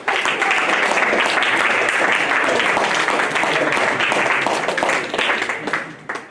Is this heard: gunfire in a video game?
no